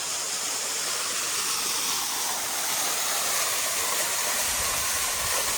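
A waterfall in Holywell Park, Jamaica, after a hurricane pours in a loud, steady broadband rush of falling water that holds constant for several seconds without any talk.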